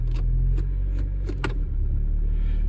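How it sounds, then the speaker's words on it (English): A 2000 Toyota Corolla E11 1.6 facelift idles with a low, steady engine rumble after a transmission fluid swap. A few sharp clicks and clunks sound as it is shifted into gear. "So now the engine is running"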